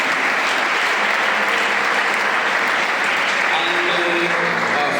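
An audience claps steadily and densely at an honorary award ceremony for a pastor. The applause is loud and continuous throughout, with faint voices underneath.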